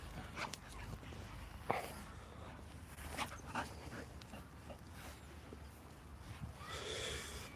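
Pet dog panting and whimpering softly close by, with faint shuffling and a few small yips over a low steady background, no talk.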